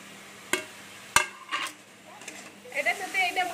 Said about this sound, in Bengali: এটার সাথে এটা ভালো করে মাখিয়ে করে নিতে হবে সবজিটার সঙ্গে মশলাটা।